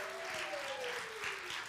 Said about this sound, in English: could you do me a favor and just give me applause one more time?